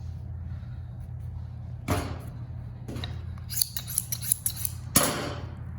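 A knife slices through deer hide during caping, giving a few sharp crisp cutting bursts over a low steady background hum, close and fairly loud.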